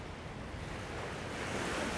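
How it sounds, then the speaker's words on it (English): Water rushes down through open spill gates at a hydroelectric dam on the Muskegon River, a steady, dense roar that swells slightly toward the end, with no voices. "there's a fairly impressive amount of water that's being allowed to come down through the spill gates that they have open"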